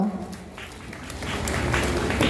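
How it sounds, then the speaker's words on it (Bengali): Loud applause for honoured guests at a Durga Puja celebration, a dense crowd clapping that swells and grows steadier over a couple of seconds. "একটা জোরে হাততালি হয়ে যাক ওনাদের জন্য"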